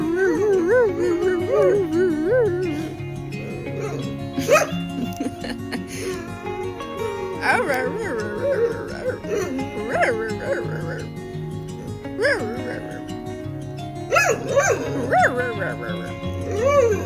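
A dog, a female left in the woods, whines and whimpers in rising, wavering tones with occasional short barks and yips, close and fairly loud, while a person talks to her in between.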